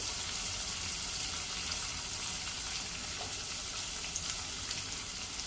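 Chopped onions fry in a pan with gourd pieces, giving a steady, fairly loud sizzling hiss with light stirring scrapes throughout and no talking.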